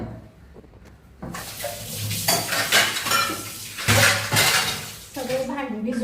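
Pots, pans and dishes clatter and scrape as they are gathered and soaked for washing in a home kitchen, with busy, irregular knocks that grow louder midway, and a voice speaks intermittently over them.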